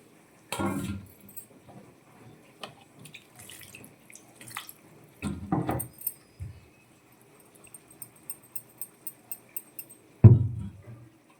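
Water splashes into a mixer grinder jar during rinsing, three short sloshing bursts separated by quiet gaps with light drips and clinks, close and fairly soft.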